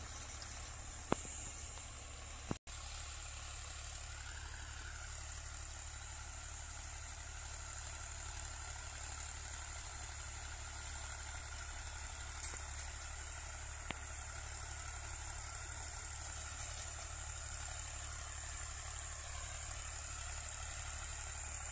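A tractor fitted with a rotavator tiller missing its blades runs at a steady idle, a continuous low engine drone close by, broken only by a couple of sharp clicks near the start.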